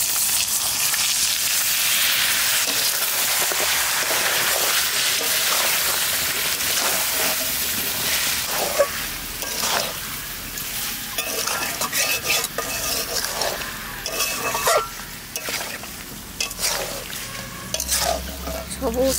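Fresh spinach and water go into a pan for a palak chicken curry, giving a steady loud sizzle with frequent stirring scrapes and utensil clinks against the pan throughout, with no talk.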